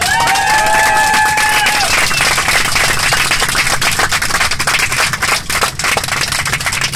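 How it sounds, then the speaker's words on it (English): Loud, dense applause from airline passengers on a Virgin Little Red flight from London Heathrow to Aberdeen fills the whole stretch, with a few whistles near the start, steady and close. "can we have a round of applause?"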